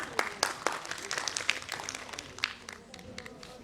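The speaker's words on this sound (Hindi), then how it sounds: "गजेंद्र चौहान जी, गजेंद्र सिंह जी हमारे बीच में हैं, जोरदार तालियां आपके लिए" Applause from an audience greeting guests at a book launch during a cinema and theatre panel discussion, a dense patter of claps running throughout, moderately close and gradually thinning toward the end.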